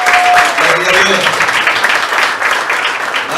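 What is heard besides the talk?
church congregation applause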